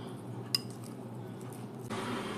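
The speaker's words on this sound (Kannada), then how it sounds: "ಇನ್ನೊಂದ್ಸಲ ಎಲ್ಲ ಸೇರಿಸಿ ಕಲಿಸ್ಕೊಂಡ್ಬಿಡೋಣ." A spoon stirs tempered kosambari salad in a bowl, giving a sharp single clink early on, then soft, moist mixing and rustling that grows slightly louder near the end, close and without talk.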